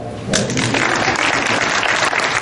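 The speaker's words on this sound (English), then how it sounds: "you can clap" A church congregation claps together during a Sunday service, a dense, steady wash of many hands that starts abruptly and stays loud throughout.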